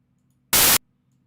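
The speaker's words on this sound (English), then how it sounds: "We're going to listen to 10-second sample of white noise." A burst of white noise plays for about a quarter second, loud and harsh, starting and stopping abruptly against a faint low hum.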